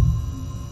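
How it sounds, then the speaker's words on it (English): A low, throbbing heartbeat with a muffled hum in the dark corridors of the Backrooms game, a single brief pulse that is close and fairly loud. "Just follow the heartbeat. The heartbeat will get louder."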